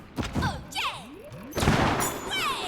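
In the video game Donkey Kong Bananza, a cannon fires and launches the character with a sharp blast, followed by whooshing sweeps and further bursts of game effects and impacts.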